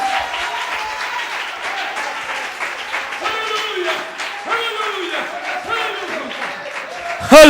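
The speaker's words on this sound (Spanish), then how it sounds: "¿Por qué no le damos un aplauso más fuerte al Señor Jesús?" A church congregation claps steadily for a long stretch, a loud crowd of hands with scattered shouts and voices mixed in.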